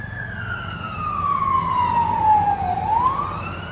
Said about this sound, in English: fire vehicle.